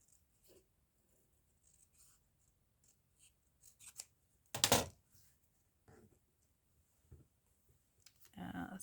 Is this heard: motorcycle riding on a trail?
no